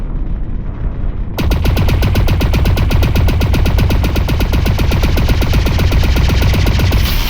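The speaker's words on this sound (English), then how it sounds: "Jack, fire continuously at this last target." Continuous rapid-fire energy weapon in the video game Lone Echo 2, starting abruptly after a quiet moment and holding a steady, loud, evenly pulsed stream of shots for several seconds before cutting off.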